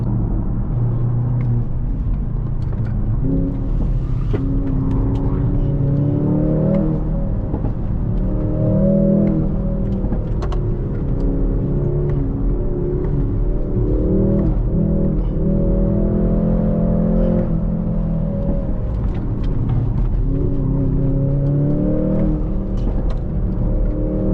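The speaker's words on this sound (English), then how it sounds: "Can you hear the crackles in the exhaust? Pops and bangs." A revving Mercedes-AMG engine rumbles steadily throughout, with sharp exhaust crackles and pops scattered over the drone, close and loud.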